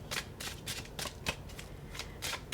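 Tarot cards shuffled by hand at close range in quick repeated riffling bursts, each a crisp papery flutter, with no talking.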